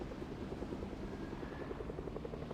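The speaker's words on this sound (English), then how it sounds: "Someone's already in a helicopter?" Helicopter in the video game Fortnite, a steady rotor chop with rhythmic low thumping and a continuous engine drone, moderately loud and with no talking.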